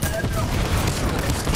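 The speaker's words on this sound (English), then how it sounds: "Artillery, artillery!" Artillery fire rumbles through a first-person World War II battle in Fortnite, with continuous dense booms and crackling blasts that sound rough and moderately distant across the whole moment.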